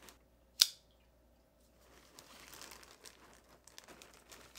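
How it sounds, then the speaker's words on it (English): Scissors snip open the plastic packaging of ceramic biological filter media for an aquarium, a single sharp cut near the start followed by soft crinkling and rustling of the bag as it is handled. "So we're gonna try these and get it cut open and see what we got here."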